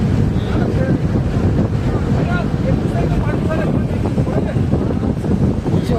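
A rushing mountain stream current near Pahalgam on the Amarnath route roars as a loud, continuous broadband wash, buffeted by wind noise on the microphone, with people talking over it.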